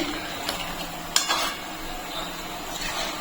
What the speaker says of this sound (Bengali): এখন ভালো করে রসের সঙ্গে মিশিয়ে নিচ্ছি।